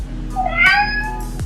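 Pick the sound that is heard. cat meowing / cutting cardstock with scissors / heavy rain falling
cat meowing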